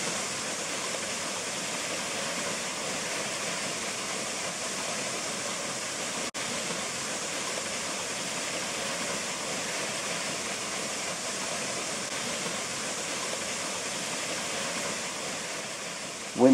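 A waterfall roars as a steady, dense wash of rushing water that stays constant and full throughout, with no voices over it.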